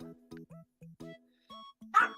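A dog gives a series of short, faint yips and barks in the background, spaced irregularly across a couple of seconds, with a sharper sound at the end.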